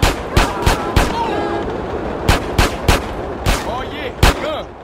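Gunshots in GTA San Andreas Definitive Edition, roughly eight sharp loud bangs in irregular bursts over a low background of game ambience and faint chatter.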